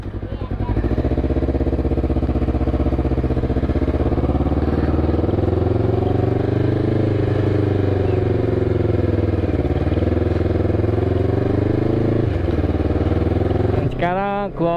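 A Honda CBR250RR motorcycle accelerates along a road, its high-revving engine droning loud and close for the whole stretch with rising and shifting pitch, ending in a quick rev burst.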